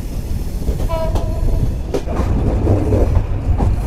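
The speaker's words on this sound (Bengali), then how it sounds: "বিশাল কার্ভ নিয়ে আমাদের ট্রেন প্রবেশ করছে মোবারকগঞ্জ রেলওয়ে স্টেশনে" The Kapotaksha Express rolls around a sharp curve into Mobarakganj railway station, a close, steady rumble of wheels and wagons with rhythmic clatter and a brief tonal squeal near the start.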